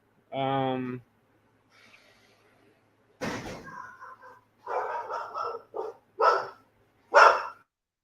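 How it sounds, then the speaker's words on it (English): Dogs barking, a few separate loud barks spaced out after a short sound near the start, fairly close with quiet gaps between them. "She don't care about dogs barking."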